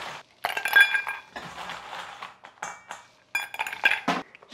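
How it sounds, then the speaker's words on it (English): Ice cubes clinking into a drinking glass for iced coffee, several bright clusters of glassy clinks and rattles in bursts with short pauses between, close and clear with no speech. "I am going to add ice to my glass."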